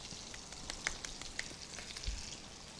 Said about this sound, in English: I'm not really doing anything except letting the shrimp cook in the pan.